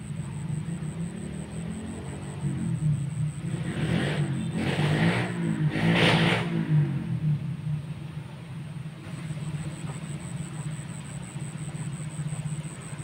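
Motorcycles pass on a road near a fishing spot, engine rumble swelling and fading with two brief louder surges in the middle, set against a steady high insect-like whine.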